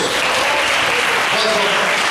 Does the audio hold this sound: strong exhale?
no